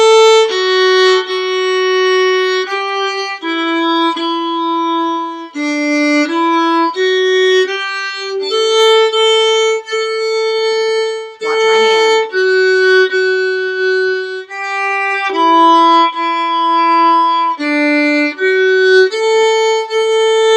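A violin plays the melody of "Lightly Row" alone, smooth bowed legato notes moving step by step at a steady moderate pace, close and clear.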